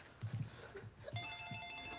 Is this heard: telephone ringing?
yes